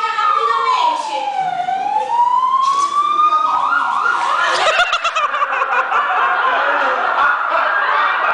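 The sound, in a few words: ambulance siren arriving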